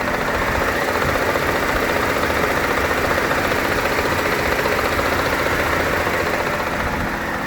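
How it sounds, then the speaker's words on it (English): A car engine idles steadily with a suspected sticky lifter, giving a constant close mechanical drone with a faint, rapid ticking running through it, no voices. "that sounds like a sticky lifter to me"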